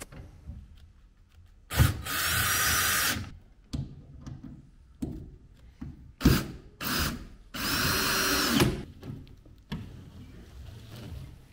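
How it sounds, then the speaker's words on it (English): A power drill drives SH3 timber frame screws through the metal section of a slip joint on rendered cladding, in several loud whining bursts of a second or two each, separated by quieter handling knocks and rustles. "Fix the metal section of the slip joint with the SH3 timber frame screws."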